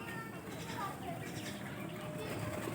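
Pigeons coo softly on a house rooftop where a flock of twenty or so has gathered, a low murmuring bird sound under a steady outdoor hum while a person talks nearby.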